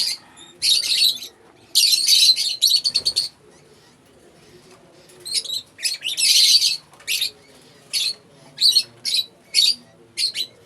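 Close, loud chirps and squawks of a lutino opaline bird in repeated bursts, separated by short pauses with faint background noise.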